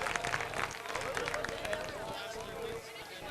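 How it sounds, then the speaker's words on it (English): Grandstand crowd at a motor speedway applauds category winners, a dense patter of clapping and cheering with voices mixed in, fading somewhat toward the end. "Ladies and gentlemen, a nice round of applause for our 12 and under category winners."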